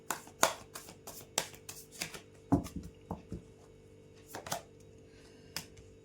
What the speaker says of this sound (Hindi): मैं शफल कर लेती हूँ